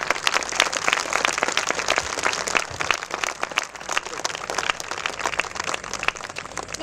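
A school valedictory audience breaks into a long round of applause for the participants, many hands clapping in a dense, sustained wash with individual claps popping out near the front.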